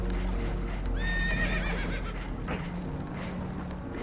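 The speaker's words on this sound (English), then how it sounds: "Horses are spooked" Spooked horses aboard a damaged boat let out a loud, wavering neigh around the one-second mark, over a constant low rumble of engine and water noise.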